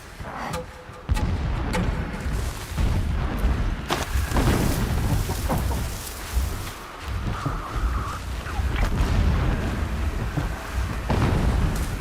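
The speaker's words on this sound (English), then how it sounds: "Explosions in the distance." Heavy booming explosions rumble in the distance within the Horizon Zero Dawn video game, several deep blasts and crackling bursts rising and fading over a continuous low roar.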